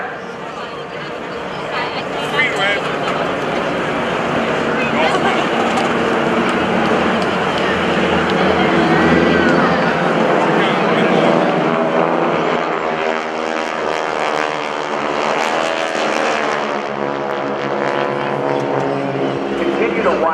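GEICO Skytypers propeller aircraft passing overhead at an air show, a loud sustained engine drone that swells and shifts in pitch as they fly by, with a voice speaking over it.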